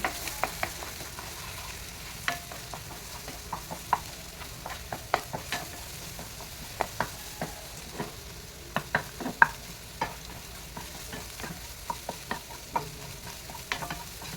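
Egg with garam masala and chilli powder fries in a pan for capsicum egg rice. A soft, steady sizzle runs underneath while a spatula scrapes and taps the pan in frequent sharp clicks.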